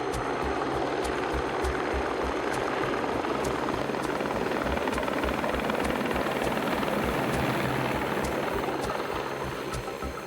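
A rescue helicopter in mountainous New Zealand backcountry flies close by, its rotor producing a loud, continuous rapid chopping throb with steady turbine whine throughout.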